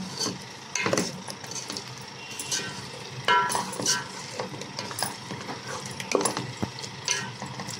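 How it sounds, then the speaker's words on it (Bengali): Potatoes with ginger-garlic paste are stirred in a pan over low heat. Repeated scraping and clinking strokes of a utensil sit over a faint, steady sizzle. "এটাকে আমি ভালো করে কষিয়ে নেব।"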